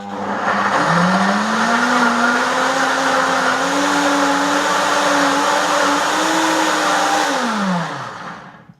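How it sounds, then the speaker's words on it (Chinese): A high-speed blender whirs loudly and steadily as it purées a Thai sauce, its motor pitch climbing slightly as it runs before winding down and stopping near the end. "启动破壁机。"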